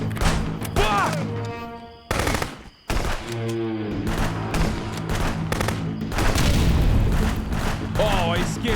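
Grenade blasts and bursts of gunfire in the game Contraband come loud and close, with heavy booms, brief sudden drop-outs and chaotic crackling, while voices shout over the mayhem.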